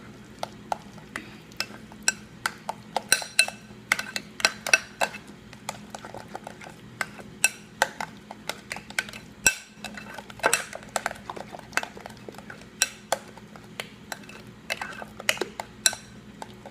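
A utensil stirs potato salad in a bowl, making irregular clinks and scrapes against the dish that repeat through the stretch at moderate, close volume.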